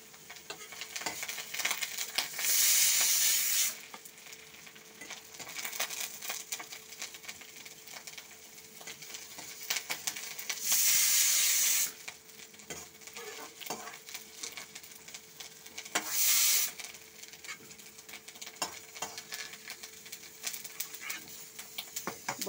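Milk-cream (dudher sor) fritters fry in oil with a steady crackling sizzle, broken three times by brief louder bursts of hiss and spatter.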